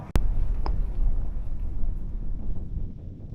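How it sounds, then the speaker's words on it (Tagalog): Cold wind buffets the microphone outdoors in Yokohama, Japan, a loud, continuous low rumble after a sharp knock at the start. "Ang lamig lang hangin."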